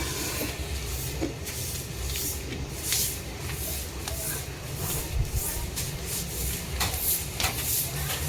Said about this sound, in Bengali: চলো এখন আমি ঝাঁট দিতে চলে এসেছি। এই যে ঝাঁট দেবো